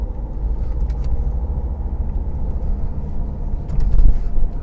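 Car driving along a country road between Hamstreet and Tenterden, a steady low rumble of engine and tyre noise heard from inside the vehicle, with no voices.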